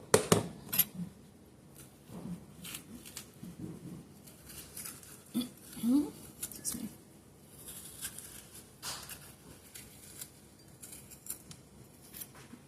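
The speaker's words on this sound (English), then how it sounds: "I'm going to have to scrape out these seeds here into a bowl." A spoon scrapes butternut squash seeds into a bowl: quiet, irregular scratches and soft clinks, with a few sharper knocks against the bowl scattered through a mostly hushed stretch.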